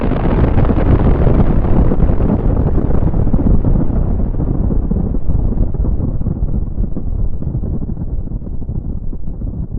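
A roaring explosion sound effect on a podcast, loud and sustained, a dense rumbling blast that slowly darkens and fades over about ten seconds, with no talk over it.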